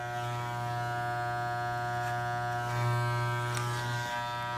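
Electric hair clipper shaving into hair during a clipper-over-comb fade blend, a steady close mechanical hum that swells slightly near the middle, running alone without talk.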